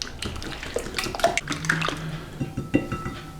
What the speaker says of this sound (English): I'm just using a whisk.